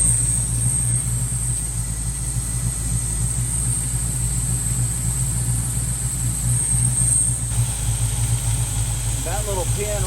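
A big block Trans Am V8 with a Quadrajet carburetor idles roughly and unevenly, a low steady rumble close by that sags as if about to stall, with a voice speaking over it.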